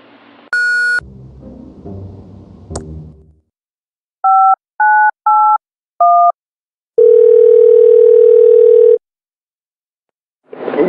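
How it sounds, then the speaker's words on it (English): In the video game Thimbleweed Park, an answering machine gives its beep: a few short electronic tones, then one long, steady, loud beep that stops abruptly. "Please leave a message after the beep."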